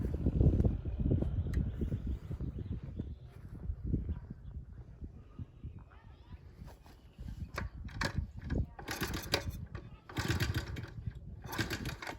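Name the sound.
1979 Honda Z50 minibike engine starting and running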